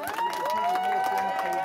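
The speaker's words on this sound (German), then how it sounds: "Der Jubel ist groß, als die ersten Ergebnisse auf Barbados verkündet werden." Loud crowd cheering and whooping as the first election results are announced in Barbados, a dense wall of voices with a sustained shout or whistle rising above, under a voice-over.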